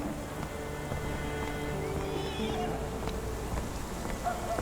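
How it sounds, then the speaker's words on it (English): Steady rain falls over a street in a Sherlock Holmes video game, with faint horse hoofbeats and a brief whinny mixed into the constant downpour. "Hello, horse."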